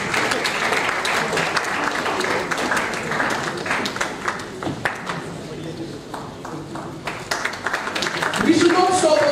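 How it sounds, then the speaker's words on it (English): Audience at a national conference claps to welcome a guest onto the stage, a sustained round of applause with individual sharp claps, while a voice talks over the clapping near the end. "May we please welcome sir with a huge round of applause as he takes center stage"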